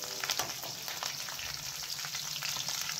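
Curry leaves and green chillies fry in a pan with a soft, continuous sizzle and a scattering of small pops.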